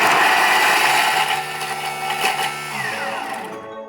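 A Thermomix TM6 spins in reverse while cooking garlic mushrooms, giving a steady loud mechanical whir and hum that shifts pitch slightly, then cuts off just before the end; no voices.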